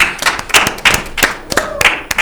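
An audience at a quiz show applauds a contestant with a brief burst of clapping, uneven claps arriving in several quick clusters, close and fairly loud.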